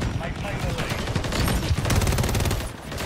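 Rapid gunfire in Call of Duty MW3 rattles in dense, loud bursts, building into a fast fusillade near the middle before easing off at the end.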